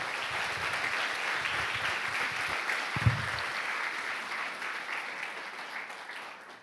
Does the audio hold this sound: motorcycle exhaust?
no